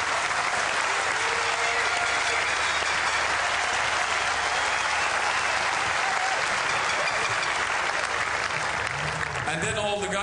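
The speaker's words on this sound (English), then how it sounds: "Give them a big hand." Loud, sustained applause from a stadium crowd at a beach volleyball World Championship final, dense and unbroken for the whole stretch, with a few voices rising near the end.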